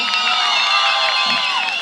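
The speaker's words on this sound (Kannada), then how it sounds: "ಮತ್ತೊಮ್ಮೆ ಜೋರಾದ ಚಪ್ಪಾಳೆ ಬರಲಿ." A crowd at a Ganesh Utsav children's dance event at a dance academy in Vasanth Nagar, Bengaluru, cheers and whoops loudly and steadily, with high children's shouts filling the whole stretch.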